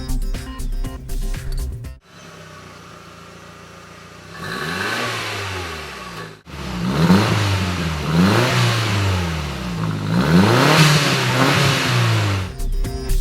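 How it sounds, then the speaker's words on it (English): A VW Golf GTI engine revs hard through a custom two-mode exhaust with interchangeable mufflers in repeated rising and falling bursts, loud and close, after a brief quieter stretch. "Our custom exhaust system has 2 modes, stealth and performance"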